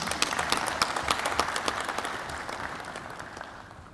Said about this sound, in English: but yes, you are clapping